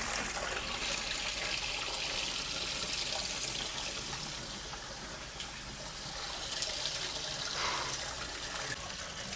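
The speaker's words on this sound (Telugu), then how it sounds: "ఈ వాటర్ అనేది ఎక్కడి నుండి వస్తుంది ఇప్పటివరకు ఎవరికి తెలియదంట" Water flows steadily at Simhachalam temple with a continuous rushing, splashing sound, fairly close and unbroken throughout.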